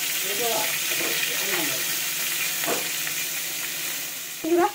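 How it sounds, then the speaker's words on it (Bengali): Potato and pointed gourd sizzle steadily in a hot pan, with occasional stirring scrapes and a louder clatter near the end. "আলু পটল একসঙ্গে এভাবে ভাজা করে নেব"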